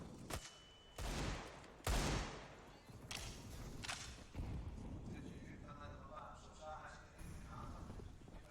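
Gunshots in a Counter-Strike match between Astralis and 100 Thieves, several sharp separate cracks spaced over the first few seconds, then quieter game noise, with a commentator talking throughout.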